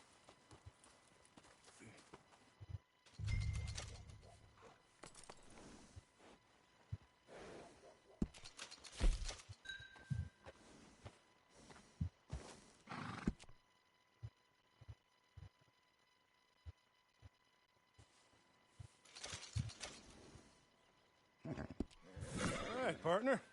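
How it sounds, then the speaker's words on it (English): Hooves clop in scattered, fairly faint steps as a horse moves around a stable in the Red Dead Redemption 2 video game, with men's dialogue and quiet gaps in between. "And a fine new horse."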